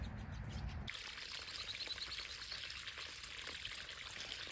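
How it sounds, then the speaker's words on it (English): Water poured from a hose or can onto newly planted Knockout roses in a garden flowerbed, a steady splashing trickle that starts abruptly after a second and continues alone and fairly soft. "we're gonna water these in"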